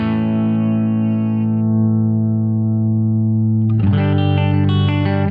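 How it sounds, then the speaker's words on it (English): An electric guitar runs through an Analog Alien Double Classic pedal with its compressor engaged, a sustained, evenly squeezed chord that gives way to a new strummed chord, loud and close with no talking. "So you can hear the compressor really grab."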